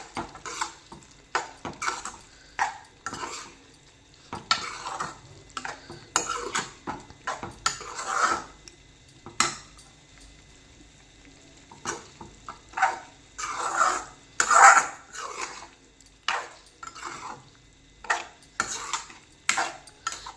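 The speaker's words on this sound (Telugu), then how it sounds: "కొత్తిమీర వేసుకొని బాగా కలుపుకుందాం." Egg gravy with coriander being stirred in a pan: repeated close scrapes and clinks of a spoon against metal come in irregular bursts separated by short pauses, with faint sizzling beneath.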